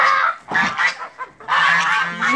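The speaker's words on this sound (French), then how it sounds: "Là les oies." A farmyard group of geese honking loudly and close by, with repeated overlapping nasal calls that come in two bursts around a brief lull.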